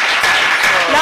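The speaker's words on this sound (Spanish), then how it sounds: "Can you give a loud clap to the Lord?" Loud crowd applause at a church gathering, steady broadband clapping filling the whole moment without a break.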